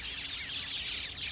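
Birds in Australian nature give soft, high chirps and twittering calls, faint and brief, with no other sounds nearby.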